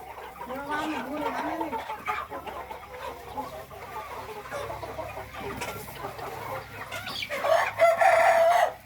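Fighting roosters crowing on a farm with free-ranging chickens, a nearby cock-a-doodle-doo early on and another louder crow near the end, amid clucking fowl and someone speaking over the scene.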